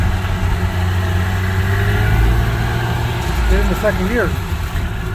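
Two-stroke van engine runs under load while driving, a steady loud low drone with a rising rev, while someone speaks briefly over it.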